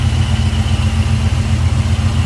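A numbers-matching 400 engine in a 1976 Pontiac Trans Am idles steadily, a close, loud, even rumble with a faint clatter and no talk over it.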